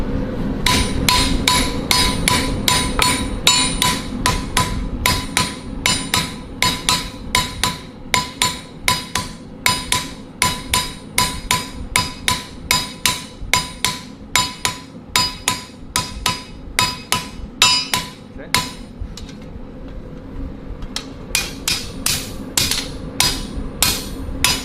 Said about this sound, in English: Let's heat it up and hammer it down.